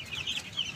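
A backyard hen clucks in short, soft bursts, a couple of quick clucks close by with faint background noise.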